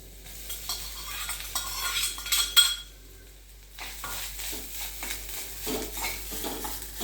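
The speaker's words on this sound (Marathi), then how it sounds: "आता हे मी खोबरं त्याच्यात परतणार आहे थोडं" Grated fresh coconut stirred in melted ghee for a sweet coconut vadi, a soft sizzle with scraping spoon strokes on the pan, a brief lull midway, then steady stirring again, close and moderate, no talking.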